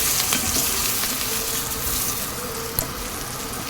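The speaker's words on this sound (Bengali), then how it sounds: "এবার এটাকে ভালো করে ভেজে নেবো আলুটাকেও তেলের উপর" Potatoes fry in hot oil with salt and turmeric, a steady close sizzle with occasional stirring scrapes and a sharp click near the end.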